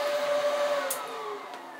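The fan of a paint spray booth runs steadily, a quiet, even whir with a faint tonal hum that holds level throughout.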